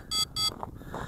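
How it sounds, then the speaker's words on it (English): Two quick, high electronic beeps from a ZLRC Beast SG906 drone's remote controller in rapid succession, followed by faint background noise. "let me turn this off too to stop the annoying beeping"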